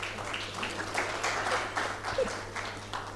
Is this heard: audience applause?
yes